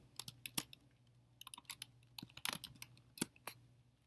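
Keys tapped on a computer keyboard in quiet bursts of clicks, irregular and close, some clusters rapid and others spaced apart, with no talking.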